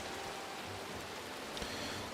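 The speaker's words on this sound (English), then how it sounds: "it is currently raining up a storm" Heavy rain pours down in a Middle-earth video game, an even, unbroken hiss of falling water with no voices present.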